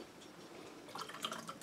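Water splashes and trickles while a container used for mixing film developer chemicals is rinsed out, quiet at first and then louder with dripping and sloshing toward the end.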